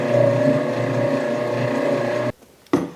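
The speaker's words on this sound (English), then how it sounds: "Now we'll mix that up with our whisk just so it's incorporated." A stand mixer with a whisk attachment blends vanilla into royal icing, running as a steady, loud motor whir. It stops abruptly near the end, then briefly starts again.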